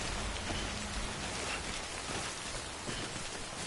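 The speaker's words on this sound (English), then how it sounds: "Alright, the rain's clearing up." Steady rain pattering on surfaces in the video game Death Stranding, a dense, even hiss with fine drop detail that holds at a constant level throughout, with no talking.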